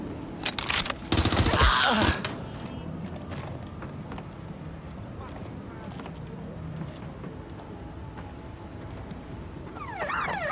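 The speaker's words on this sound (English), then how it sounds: "Being shot out here!" A short, loud burst of gunfire in Watch Dogs Legion opens the scene, then fades into a quieter street ambience with scattered distant noises and a faint siren-like wail.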